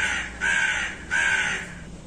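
A crow in a kids' story caws twice, two loud, close, harsh calls spaced about half a second apart, alone with no talk.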